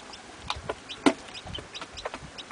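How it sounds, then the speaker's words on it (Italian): A mother hen with her chicks gives soft, rapid clucks mixed with high chick peeps, in irregular bursts at close range with no talking. "Interessantissima la comunicazione tra chiocciole e pulcini."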